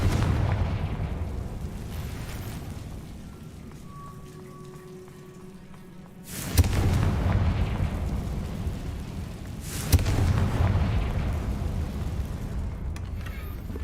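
In Hogwarts Legacy, the Confringo spell goes off in two loud, sharp explosive bursts a few seconds apart, each trailing into a rumbling, crackling decay over a steady low background of game ambience.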